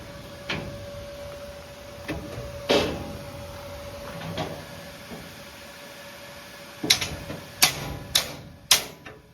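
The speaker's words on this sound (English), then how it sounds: "love just hearing the banging around the wharf" Sharp metallic hammer taps on metal ring out sporadically at a wharf, a few spaced strikes early then a quicker cluster of louder knocks near the end, with a faint steady hum behind.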